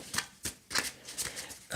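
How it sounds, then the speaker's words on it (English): Tarot cards being shuffled by hand, a quick series of soft papery riffles and slaps in uneven bursts, close and fairly quiet. "Let's get some more cards."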